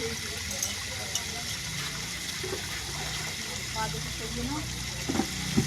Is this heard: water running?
yes